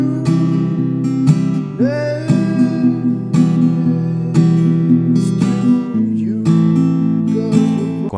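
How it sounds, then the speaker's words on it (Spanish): Acoustic guitar plays the second strumming pattern for a song, mixing single bass notes with rhythmic down and up strums at a steady, fairly loud and close level, with no voice over it. "Ahora pasaremos al segundo rasgueo, el cual suena de la siguiente manera"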